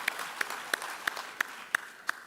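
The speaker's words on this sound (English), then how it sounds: "So please let's give them a round of applause." Guests at an awards ceremony applaud honorees: a soft bed of crowd clapping with one sharp, evenly spaced clap standing out about three times a second.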